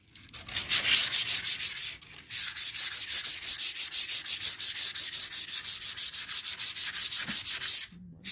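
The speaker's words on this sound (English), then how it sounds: "we're going to sand this thing down here" Hand sanding on a 1965 Ford Falcon bumper during repair, a loud, rhythmic rasping of quick back-and-forth strokes, about two per second, with a short pause early on.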